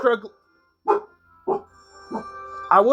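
A dog gives several short barks in a row, spaced about half a second apart, fairly close and clear.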